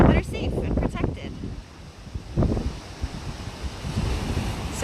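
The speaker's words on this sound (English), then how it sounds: "oh my gosh, look at these waves" Ocean waves wash onto a beach at Point Buchon, a marine protected area, in a steady, close rushing roar with heavy wind buffeting the microphone and brief surges.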